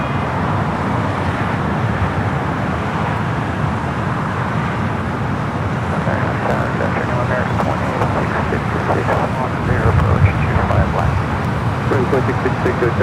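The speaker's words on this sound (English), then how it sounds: "Converted passenger 747-400, now cargo plane with Atlas Air, flight 9811, coming up from Mexico City" An Atlas Air Boeing 747-400, a converted passenger jet now flying cargo from Mexico City, lands at LAX with a continuous loud roar of engines and wind rush over gusty conditions, steady throughout with a brief swell near the end.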